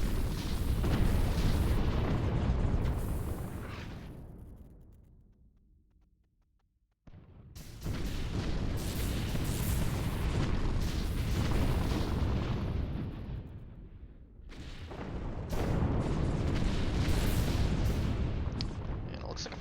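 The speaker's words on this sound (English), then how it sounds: "Half his fleet just blew up almost instantly." Fleet explosions during a tournament match of a real-time strategy game, a dense roaring wall of blasts and booms that swells, fades out, then bursts back in loud sustained waves.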